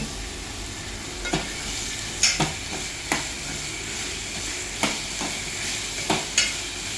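Cut potatoes frying in a pan with reddened onions give a steady low sizzle, punctuated every second or so by sharp spatula taps and scrapes against the pan.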